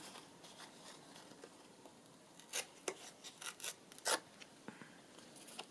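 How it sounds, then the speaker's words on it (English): A corner torn off a sheet of journal paper: a few short, crisp ripping bursts in the second half, quiet and close, with faint handling rustle around them. "I might just tear that corner off"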